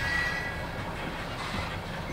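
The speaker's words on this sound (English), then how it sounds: "that's a long train," A long freight train rolls past in a steady, continuous low rumble with broadband wheel noise, heard from a distance and unbroken for the whole stretch, with no talk.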